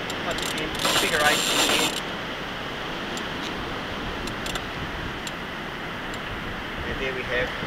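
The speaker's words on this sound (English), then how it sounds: "then through our ratchet block" Rope pulled through a ratchet block on a small sailboat, giving a fast clicking whir that is loudest for about a second before settling into softer scattered ticks against steady wind and water noise.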